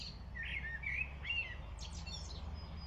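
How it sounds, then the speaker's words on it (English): Small birds chirp outdoors in short, thin tweeting phrases, a few separate calls over about three seconds, fairly faint against a steady low background rumble. "what he also will notice is the bird is still audible"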